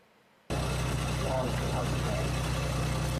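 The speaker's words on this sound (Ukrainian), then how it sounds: "перевіряє мопед перед стартом" A moped engine idles steadily before setting off on a 1000 km one-day ride from Kramatorsk, a close, continuous mechanical drone that starts abruptly and runs for about three seconds.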